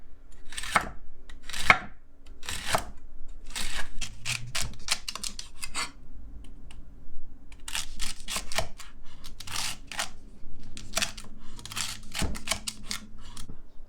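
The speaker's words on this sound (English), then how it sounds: "now I'm just going to cut this very thinly to add to my salad" A knife thinly slices a fennel bulb for a salad, giving a fast run of crisp, close chopping strikes against a cutting board in irregular bursts, each cut sharp and clear with brief pauses between groups.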